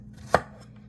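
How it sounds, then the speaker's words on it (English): A single sharp knife chop cuts through food on a cutting board while preparing carne guisada, one crisp close thud with a short tail. "And just gonna chop in half."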